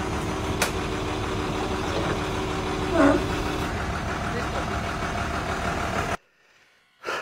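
Tractor engine running on a Guatemalan farm while its hitch struggles to raise a harrow; a loud, steady engine drone with a brief surge near the middle, then a sudden near-silent gap before it resumes.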